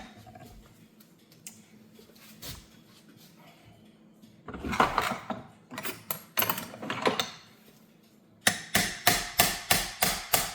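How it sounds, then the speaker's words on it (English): A part is hammered into a 100-year-old Gustav Becker clock during an overhaul, with scattered light taps leading into a dense flurry of strikes and then a fast, even run of sharp close blows. "just hammer that in right there"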